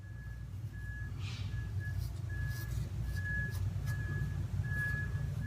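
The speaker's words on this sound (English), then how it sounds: "I'm not sure you can hear the beeping." Steady, regularly spaced reversing beeps from a heavy construction vehicle at an active construction site sound at a distance over a low rumbling engine drone.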